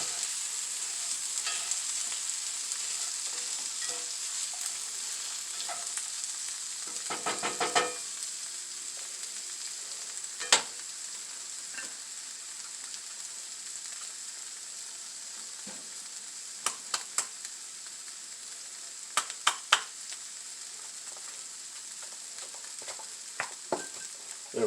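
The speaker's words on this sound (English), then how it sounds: "I'll just keep stirring this." Hash ingredients frying in a pan and being stirred, a steady close sizzle with scattered sharp scrapes and clicks of a utensil against the pan, no talking.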